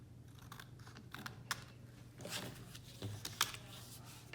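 Pattern paper being trimmed for a winter poinsettia greeting card: faint, scattered snips and light paper rustles, close and quiet, with no talk.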